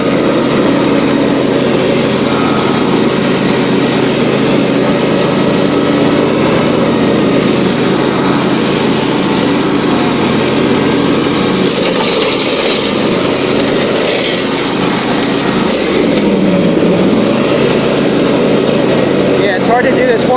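A John Deere LA150 lawn tractor mows at night, its engine and blades holding a loud, continuous, close drone for the whole stretch, with brief rasping and scraping bursts partway through.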